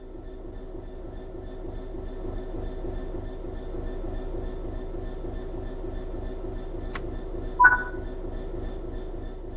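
A train in a simulator game rumbles along at a low, steady drone that builds gently over nearly ten seconds, with a couple of sharp electronic beeps near the end.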